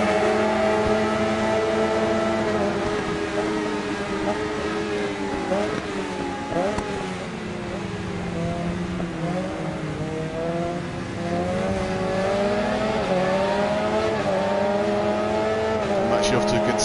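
Racing motorcycle engines in Ride 4 whine and rev continuously at high pitch, several bikes layered with shifting tones and occasional tire squeal, loud throughout, with someone talking over them.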